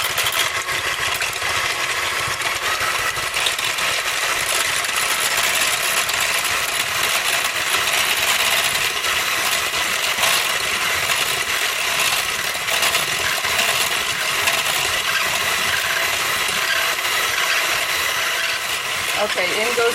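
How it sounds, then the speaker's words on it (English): An electric hand mixer whirs steadily through egg whites with sugar and cream of tartar, a continuous buzzing drone with a faint rattle of beaters in the bowl, loud and unbroken throughout. "Okay, time to beat the egg whites."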